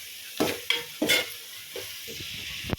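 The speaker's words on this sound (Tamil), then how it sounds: "அதையும் சேர்த்து நல்லா வதக்கி விடலாம்." A green peas and rice mixture is sautéed in a pan: several spatula scrapes and stirs break over a steady close sizzle, with no voices.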